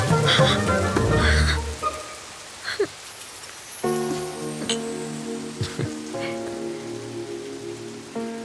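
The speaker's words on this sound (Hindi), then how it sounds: "अरे बाप रे, बारिश हो रही है" Steady rain pours down while frogs croak in loud, repeated bursts close by, a layered chorus over the constant patter, with no voices.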